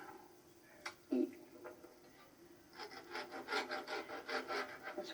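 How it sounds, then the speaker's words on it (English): A knife saws through a baked biscotti log in thin slices, giving a soft, close, crunchy rasp that starts with a few faint scrapes and then settles into a denser grinding run. "then just start slicing about 1/3 of an inch"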